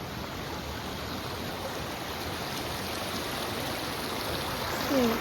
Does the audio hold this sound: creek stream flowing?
yes